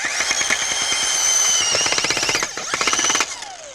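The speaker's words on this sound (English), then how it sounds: "So if you want to drill a hole, just go and drill the hole." A power drill bores a planting hole in ground with rock, giving a loud, rapid, rattling hammering burst that runs steadily for several seconds.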